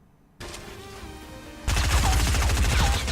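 Attack SMG in Fortnite firing a fast, loud automatic burst that starts abruptly after a short quieter stretch of game ambience and keeps rattling to the end.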